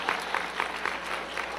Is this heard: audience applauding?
yes